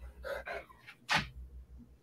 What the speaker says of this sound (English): my big old dog always comes up about an hour into the show and says hi